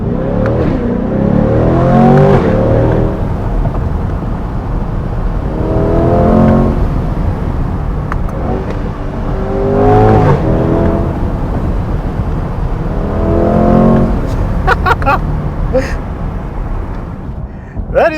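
A 2024 Chevrolet C8 Corvette Stingray 3LT with a 6.2 litre V8 pulls hard through repeated bursts of acceleration, engine revving up through the gears loud and close for about eighteen seconds.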